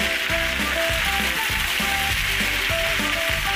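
One kilogram of okra sizzling in hot tempering oil on a full flame, a loud continuous crackling hiss with rhythmic clattering of the pan throughout.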